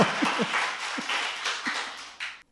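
Studio audience claps on a Korean political talk show, a continuous patter of many hands throughout, with brief voices and laughter breaking through before it cuts off.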